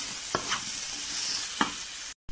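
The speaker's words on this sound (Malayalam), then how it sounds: "നന്നായിട്ട് ഇളക്കി കൊടുക്കാം." Tapioca with green chillies is stirred in a hot pan, a steady close sizzle marked by a few sharp spoon scrapes before a brief drop-out near the end.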